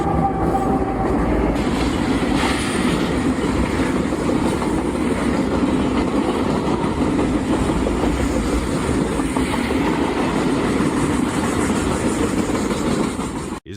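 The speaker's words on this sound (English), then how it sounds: "Train clears heavy snow from the tracks, sending it flying around observers." A train ploughs heavy snow off the tracks, a loud, continuous rumble of engine and rolling wagons with a rhythmic clatter. It stays close and steady throughout, with no voices.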